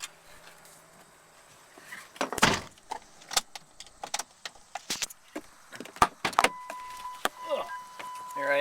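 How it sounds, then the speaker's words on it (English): Someone climbs out of a car in sharp, irregular bursts: clicks, thuds, rustling and the clunk of a door, close by and against a quiet background. "Here I am, trying to get out of the car."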